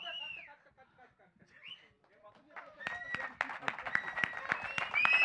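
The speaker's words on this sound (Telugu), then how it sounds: "ఈ క్లాప్స్ సరిపోవు, ఈ విజిల్స్ సరిపోవు" Audience bursts into clapping and shrill whistles after a live performance at a film pre-release press event, following a stretch of quiet voices, the claps growing denser and louder with a whistle cutting through near the end.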